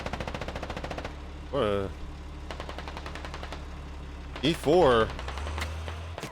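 Gunfire crackles in the video game Squad, a fast train of sharp automatic shots under a low engine drone, while someone speaks briefly twice over it.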